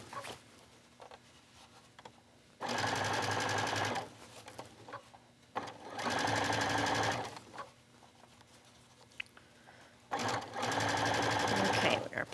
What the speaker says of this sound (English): And just keep stitching until we reach that center back again.